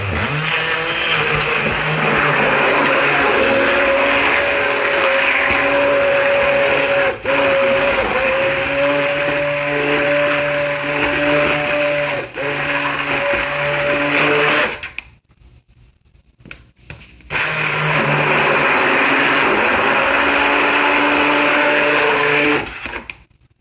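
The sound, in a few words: stick blender blending oils for apple cider vinegar shampoo bar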